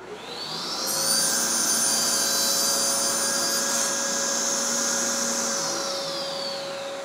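Festool table saw cutting a piece on its sliding table, a steady high-pitched blade whine that rises as the cut begins, holds for several seconds, then eases off.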